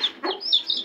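An aseel hen with chicks clucks softly up close while high, thin chick peeps come in short bursts around her.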